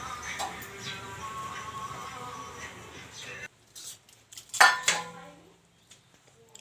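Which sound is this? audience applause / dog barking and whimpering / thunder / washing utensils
washing utensils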